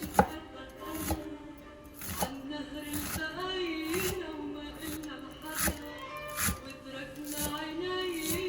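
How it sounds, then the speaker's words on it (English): A knife chops parsley very finely for fattoush, with quick, steady, repeated blade strikes against a board under occasional talk. "some people don't chop the parsley as fine as I do"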